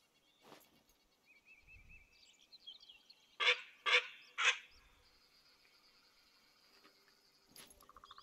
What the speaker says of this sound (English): show me exactly what happens to ducks that start quacking a little too loud